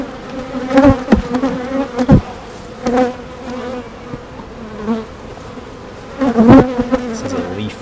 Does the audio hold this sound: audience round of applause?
no